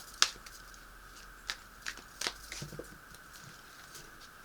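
Tarot cards riffle in a few short, crisp bursts, with quiet pauses between shuffles and a soft patter near the end.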